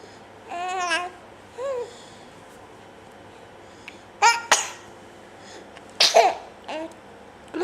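A seated baby lets out a couple of sharp sneezes amid soft babbling and little vocal sounds, each burst close and abrupt against an otherwise quiet room.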